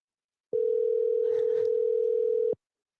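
During an outgoing phone call, the ringback tone sounds once: a single steady, clear tone lasting about two seconds, loud and alone, with silence before and after.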